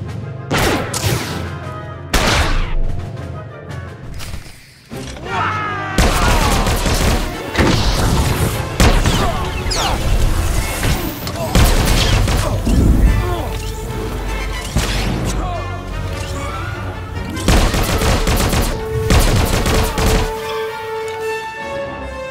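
Blaster fire in a Star Wars: The Old Republic firefight, with repeated sharp shots and impacts over several bursts, mixed with shouted voices, music and battle effects.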